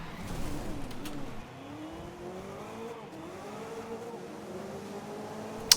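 A race car in GRID 2019 drives fast with a smooth, rising and shifting engine whine, accelerating steadily and moderately loud with no voices over it.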